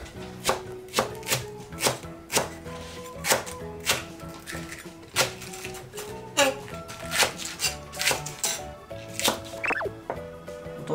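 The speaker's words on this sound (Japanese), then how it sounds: "長ネギはね、こうやってもうね、斜めに切っちゃいます。" A kitchen knife slices a long green onion diagonally on a cutting board while hot pot ingredients are prepared, giving a steady run of crisp, close chops over background music.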